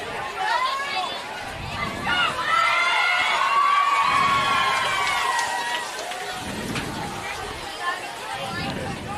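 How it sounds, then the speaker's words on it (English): A crowd at a high school football game between Holliston and Lincoln-Sudbury cheers and shouts over a broad babble of voices, swelling to a loud roar midway before easing back, with children's shouts mixed in. "Big cheer crowd on."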